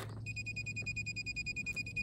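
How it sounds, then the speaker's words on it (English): Steady high-pitched electronic beeping repeats in a quick, even rhythm at a septic line install site, fairly quiet, over a low background hum. "I hear beeps everywhere."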